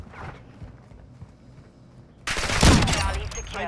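RPK machine gun fire in a video game breaks in abruptly after a quieter stretch, a loud, dense, sustained volley filling the second half.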